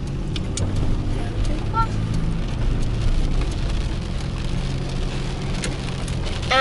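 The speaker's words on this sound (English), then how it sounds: "it's a tour in the rain for dramatic effect" Steady rain patters on a car driving along Interstate 40 in Albuquerque, a continuous hiss with scattered drop taps over low road and engine rumble, while voices talk inside the car.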